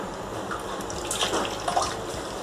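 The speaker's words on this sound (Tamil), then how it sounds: "இப்போது நம்ம புதினா தண்ணியை வடிகட்டிக்கலாம்" Mint-infused water pours and splashes steadily through a strainer, a soft continuous trickle with a few brief louder splashes, close by and without talk.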